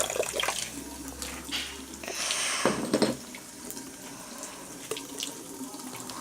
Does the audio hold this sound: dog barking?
no